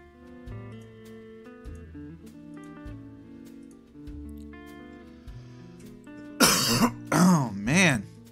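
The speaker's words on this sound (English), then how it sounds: "Take shallow breaths not to activate that cough, but my body needs to do it." A person clears their throat and coughs a few times near the end, three loud harsh bursts close by, following a stretch of soft tonal background music.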